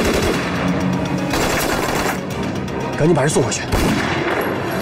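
Gunfire in a Chinese TV spy drama: a loud, rapid run of shots cracks out steadily, with a voice speaking briefly over the shooting.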